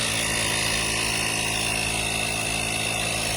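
A portable inflator pumps up a flat tyre on a Volkswagen Caddy. Its loud, constant motor drone runs steadily throughout, with no talk.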